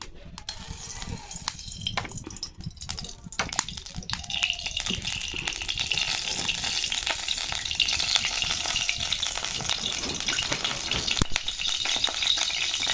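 Oil sizzles in a hot kadai, preceded by a few clinks and scrapes of utensils, then settling into a steady, bright frying hiss that continues to the end.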